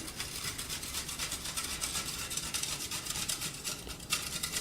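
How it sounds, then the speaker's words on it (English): A cucumber is rubbed against the coarse side of a kitchen grater in fast, repeated rasping scrapes, a steady scratchy texture at close range with no talk. "using the thick end of the grater, just come in here."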